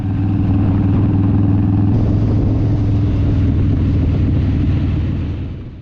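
Harley-Davidson motorcycles riding as a group on a road near Karaka in South Auckland, a loud, close, continuous engine rumble with a steady low throb that swells and then fades slightly at the end, no voices.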